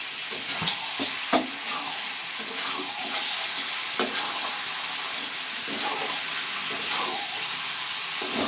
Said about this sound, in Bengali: এবার একবার নেড়ে দেবো।